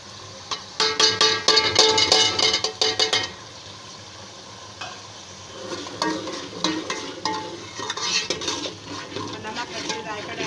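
Ground coriander, cumin and turmeric going into a hot pan, with scraping spoon-on-metal stirring and a soft sizzle, louder in the opening seconds, then quieter before the stirring picks up again.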